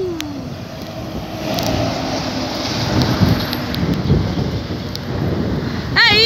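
Heavy rainstorm with wind and rumbling thunder in Paraná, a constant loud wash of rain swelling in waves, with faint horn-like tones and a brief sweep near the end.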